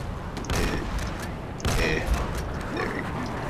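Gunfire in a shooter video game, with two sharp, loud blasts ringing out over a steady background game hum.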